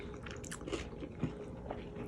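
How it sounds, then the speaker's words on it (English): Someone bites and chews a cheesesteak on a homemade seeded roll, giving a few soft, close crunches of crusty bread in a quiet room. "Bread sounds crunchy a little bit there."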